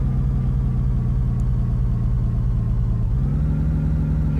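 A car engine drives steadily in Tornado: Research and Rescue, a loud, constant low rumble whose pitch shifts slightly upward near the end, without speech.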